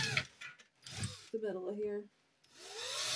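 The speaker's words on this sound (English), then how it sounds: "I'm just going to drill a couple of holes so I don't have to change my drill bit out" A power drill bores a couple of holes, with short whining bursts of the motor between pauses, up close and mixed with brief speech.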